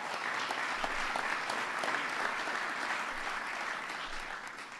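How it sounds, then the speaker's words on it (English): Sustained applause from a large audience at a White House ceremony honoring the NBA champion Golden State Warriors, steady dense clapping filling the room for the whole stretch without a break. "Give them a big round of applause."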